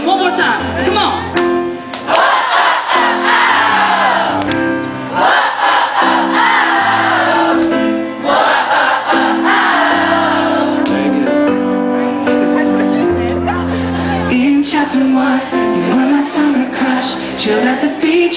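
A concert crowd in Tulsa, Oklahoma, sings along loudly to a song over the band, a dense massed chorus of voices with cheering and shouts throughout.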